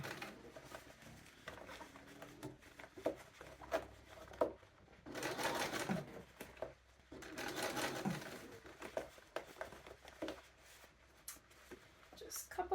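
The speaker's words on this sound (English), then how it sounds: "The stretchier fabric is, the easier it is to sew this" A sewing machine topstitches a diamond hem on stretchy trouser fabric in short bursts of quick whirring stitching, separated by pauses with handling sounds.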